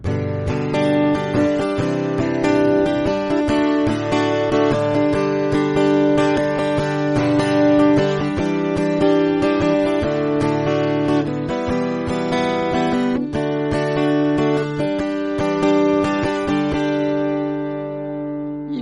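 Chords strummed on a guitar in a steady, repeating rhythmic pattern, played alone, loud and close, ending on a sustained chord.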